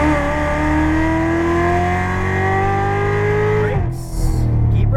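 A Chevrolet Corvette Z06 Stingray accelerates hard on a race track, its engine note climbing steadily in pitch and loudness before cutting off abruptly near the end as the car slows.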